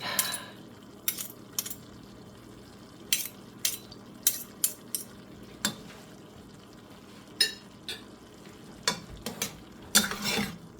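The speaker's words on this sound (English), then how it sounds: "let's stir this stuff up" Nacho ingredients stirred in a pan, with scattered sharp scrapes and clinks of a utensil against the pan over a soft steady sizzle, close and fairly quiet.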